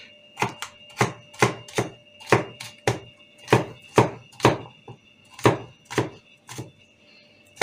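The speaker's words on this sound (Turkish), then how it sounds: "Küçük küçük doğramamızda kasıt." Food being chopped into small pieces with a knife on a board while making a Turkish shepherd salad, a steady run of sharp, close chops at a brisk uneven rhythm, heard alone without talk.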